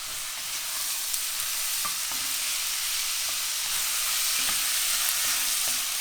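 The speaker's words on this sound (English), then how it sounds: "Now we're gonna put our tomatoes." Tomatoes drop into a hot pan for beef caldereta and sizzle loudly, a continuous bright frying hiss with light stirring clicks, no voices.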